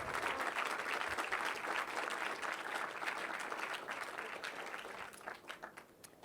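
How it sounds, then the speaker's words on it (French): A festival-opening crowd applauds in a sustained, thick patter of many hands, heard from a distance and fairly faint, thinning slightly toward the end. "je vais vous demander de faire beaucoup de bruit et d'applaudir très fort"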